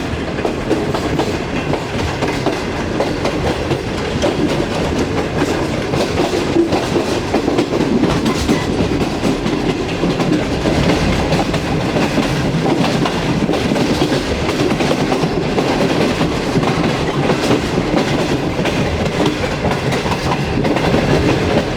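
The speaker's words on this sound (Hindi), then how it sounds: "मज़ेदार ट्रैक साउंड के साथ ट्रेन हमारी आगे बढ़ रही है जी।" Shalimar Express passenger train travelling on the Karachi to Lahore line, with a steady loud rumble and rhythmic clickety-clack of wheels over rail joints, continuous and close throughout, with no talk.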